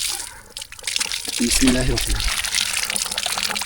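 Cold water pours from a hillside pipe along a hiking trail near Abbottabad, a steady close gush and splatter with someone speaking briefly over the flow.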